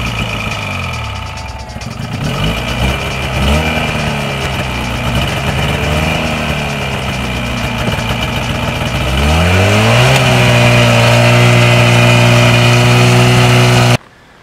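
A snowmobile engine runs steadily, then its pitch rises and settles as the machine engages and creeps slowly forward, loud and close, with no voices.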